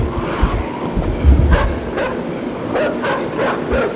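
Dogs bark in a video game: a few short, yapping barks sound over a low rumbling background, moderately loud and spread through the clip.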